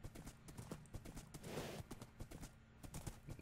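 A horse galloping in Minecraft, heard as fast, steady clip-clop hoofbeats in a quick repeating rhythm, close and fairly faint, with no talking over them.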